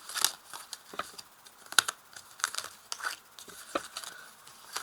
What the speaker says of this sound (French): Je vais placer maintenant 2 cartes sur chaque carte, justement.